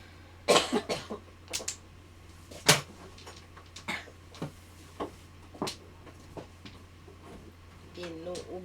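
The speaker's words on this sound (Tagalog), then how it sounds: "Inuubo, inuubo." Coughing at a mahjong table: several sharp coughs spaced through the clip, close and fairly loud, with a steady low hum beneath and a brief voice near the end.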